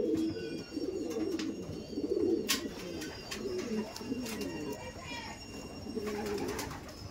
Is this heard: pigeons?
yes